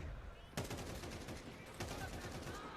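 Rifle gunfire from Counter-Strike during a Starladder Major Budapest match, with a sharp shot near 0.6 s and another near 1.8 s over constant game noise and faint casting chatter.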